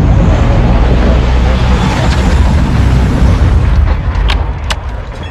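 Cruise missile strike in Modern Warfare II, a loud sustained booming rumble that roars steadily for several seconds before slowly fading, with a few sharp crackles near the end.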